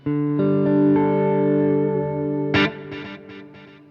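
A sustained distorted electric guitar chord rings out through a plate reverb with a lush reverb tail, followed by a few short strummed stabs that echo away.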